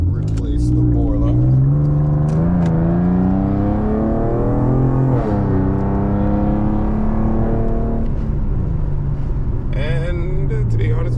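Heard from inside the cabin, an Infiniti Q50S with two Vibrant super quiet resonators in a near straight-pipe exhaust revs repeatedly, its deep engine drone rising and falling in pitch across several sweeps, with talking underneath.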